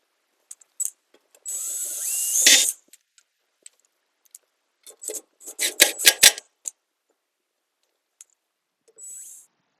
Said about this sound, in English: So we'll go ahead and get our anchoring screws installed.